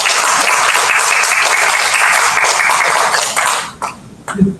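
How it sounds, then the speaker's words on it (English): Loud, dense applause from a crowd at a university professorial lecture fills the room steadily, then thins out and fades near the end. "Let us give him a round of applause."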